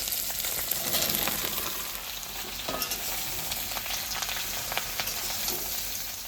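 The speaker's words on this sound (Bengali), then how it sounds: "তেলে লঙ্কাটা দিয়ে দেবো ধনিয়াটা দিয়ে দেবো" Chilli and coriander frying in hot oil in a pan: a steady, close crackling sizzle that runs on without a break, with a few stirring scrapes and no talking.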